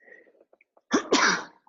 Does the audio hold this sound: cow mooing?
no